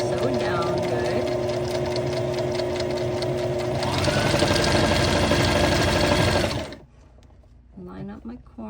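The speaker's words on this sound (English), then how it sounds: "I'm going to start by sewing a little bit, and then I'm going to go backwards to make sure that it's sewed down good." Close and loud, a sewing machine runs a continuous stitching burst through fabric for a crochet bikini, shifting pace partway through, then stops. A voice talks softly as it ends.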